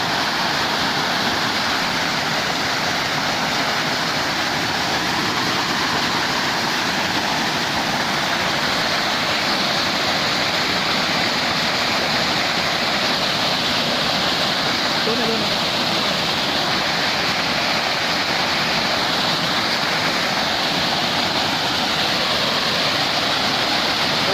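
A powerful waterfall in the Konkan roars in a constant, loud rush of crashing water that never lets up.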